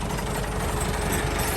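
A tractor engine running steadily nearby, a dense continuous low rumble and rattle with no breaks, fairly loud and unaccompanied by speech.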